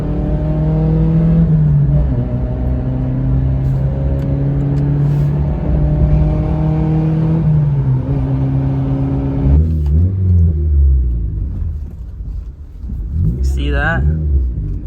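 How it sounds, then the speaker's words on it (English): A Daihatsu Terios with a custom exhaust downshifts, giving a loud, close droning engine note with rising and falling revs, a sharp change partway through, then further rev swings near the end. "when you can downshift and it sounds like this from your Terios"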